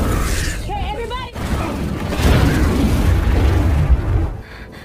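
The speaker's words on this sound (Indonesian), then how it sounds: "mereka berhasil menyelamatkan diri dari sebuah ledakan" Film explosion with a loud burst and shattering debris, followed by sustained rumbling, mixed with voices and other action sounds.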